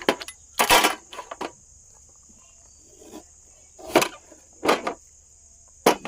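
A knife chops peeled bamboo shoots in a village kitchen, a few sharp close cracking cuts spaced irregularly with quiet gaps between them.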